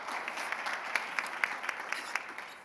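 Steady applause from a conference audience, a dense patter of many hands clapping at moderate distance, with a few sharper individual claps standing out.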